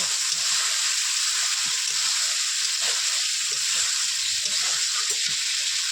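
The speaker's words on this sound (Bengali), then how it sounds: "সেই জলটা দিয়ে দেবো দিয়ে ভালো করে মশলাটাকে কষিয়ে নেব" Mutton curry masala with a splash of spice-rinse water fries in a pan as a continuous hissing sizzle, steady and even for the whole stretch, with scattered faint stirring knocks and no voices.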